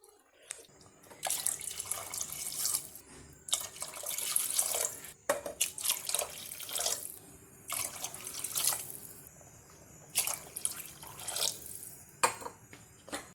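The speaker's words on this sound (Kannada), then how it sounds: "ಈ ಲೋಟದಲ್ಲಿ 6 ಲೋಟ ನೀರು ಹಾಕ್ಕೊಳ್ತೀನಿ ನಾನು ಇವಾಗ ಇದಕ್ಕೆ" Six glasses of water are poured one after another into a biryani pot for chicken biryani, each pour a splashing burst of several seconds with short pauses between.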